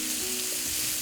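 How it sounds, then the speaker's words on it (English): White fish fillets sear in a hot pan for a curry dish, giving a steady, close sizzle and crackle of hot oil that holds throughout, with no voices. "Honestly, I could have let these sear up a bit longer before flipping."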